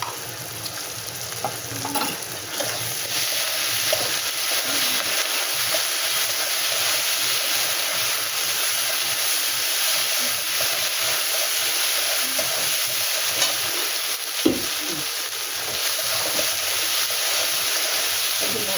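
A spice paste of ginger, cumin, coriander and dried chilli fries in a pan with a continuous, moderately loud sizzle. Occasional stirring knocks sound through it, and one sharp clack comes near the end.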